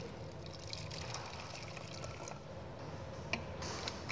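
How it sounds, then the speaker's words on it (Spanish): Water tinted with food colouring pours steadily into a simple bottle, a continuous gentle trickle heard close up with no speech, ending in a few small splashes. "poner un poco de agua. Esto es agua con colorante."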